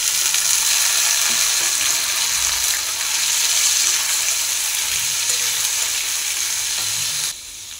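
Cut pumpkin pieces fry in a pan with a steady, loud, close sizzle that runs unbroken for several seconds, then drops a little near the end.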